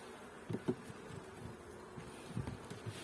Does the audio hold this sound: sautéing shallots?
no